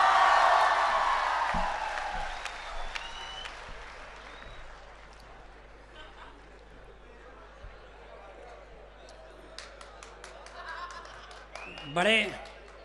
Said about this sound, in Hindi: हाँ, जोर से बजाओ तालियां।